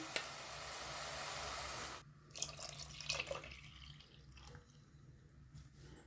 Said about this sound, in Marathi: आता मी ह्याच्यात थोडंसं पाणी टाकते आणि ह्याच्यात ॲड करते